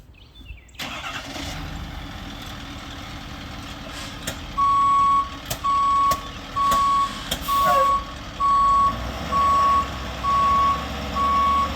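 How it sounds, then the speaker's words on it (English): A tree service chip truck with a chipper in tow starts up and idles, then reverses while its backup alarm beeps in a steady, loud, evenly spaced series over the engine rumble. "I'm gonna have the guys back the truck up"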